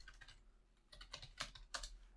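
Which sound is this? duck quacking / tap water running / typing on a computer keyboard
typing on a computer keyboard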